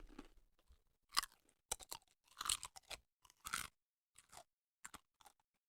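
A crunchy wafer chewed close to the mic, with a series of sharp, dry crunches in irregular bursts separated by quiet pauses.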